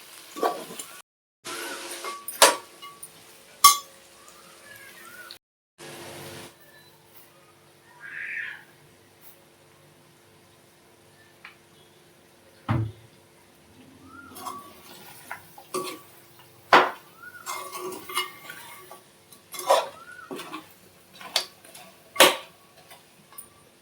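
Village-style country chicken curry being stirred in a pot, with scattered scrapes and sharp utensil taps against the pot coming in irregular bursts, close up and moderately loud between stretches of quiet.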